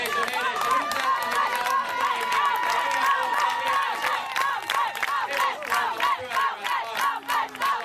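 Spectators cheer and shout at a Finnish Championship rugby final as a scrum forms right in front of them, a dense, continuous crowd roar with overlapping voices, whistles and yells throughout.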